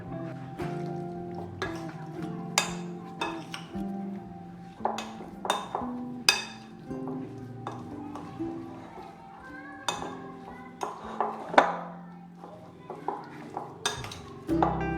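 Raw chicken being mixed with red chilli powder, salt and spices in a bowl, with soft scraping and irregular clinks of a spoon against the dish, close and fairly quiet.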